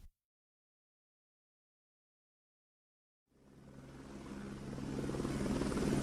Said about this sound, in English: Wow, a helicopter flies here